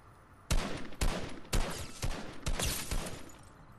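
A string of Fortnite gunshots, about six sharp loud bursts spaced roughly half a second apart, some in quick doubles, with a faint background between them.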